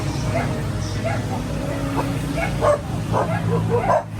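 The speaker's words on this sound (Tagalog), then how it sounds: "Daming aso." Several dogs bark and yip close by in a busy, overlapping chorus, with people's voices murmuring underneath.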